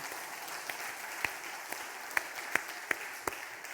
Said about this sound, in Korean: 우리 찬양을 받으신 하나님께 박수로 영광을 돌립니다